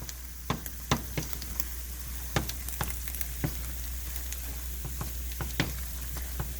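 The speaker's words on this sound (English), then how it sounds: "The onions have been going for about 5 minutes now." Onions sizzle steadily in a frying pan for mujadara, a constant crackling hiss broken by sharper pops and spits at irregular moments, close and alone with no talk.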